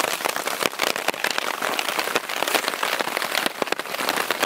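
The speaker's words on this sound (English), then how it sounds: "now it's thundering and raining again" Rain falls hard during a thunderstorm in elk country, a dense, steady patter of drops striking nearby surfaces with scattered sharper splats, loud and close, with no thunder or voices evident.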